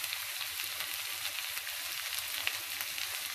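Spices tempering in hot oil in a pan for pachi pulusu give a steady, close hiss of sizzling frying that continues unbroken with no voices.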